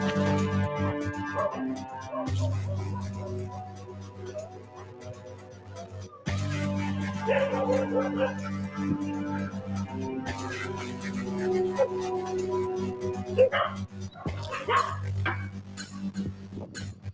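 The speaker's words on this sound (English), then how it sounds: "I think those are all friendly dogs" Several dogs bark and yip in repeated bursts, some louder and closer than others, mixed with a steady background hum and other noise.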